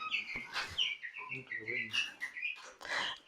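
Three-week-old chicks chirp in a quick, overlapping run of high peeps while briefly moved out during hutch cleaning, close and fairly soft, with a few low background murmurs.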